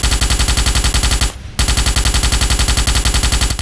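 Rapid automatic gunfire from the Merida Mark II rifle, a conventional-ammo weapon in the Starship Troopers video game, firing loud continuous bursts with a brief pause before resuming at the same steady rate.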